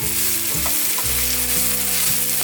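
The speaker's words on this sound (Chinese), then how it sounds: "放入香菇， 把香菇炒香。" Shiitake mushrooms are stir-fried with ginger slices in a hot pan, giving a continuous loud sizzle with scraping stirring sounds throughout, up close and without speech.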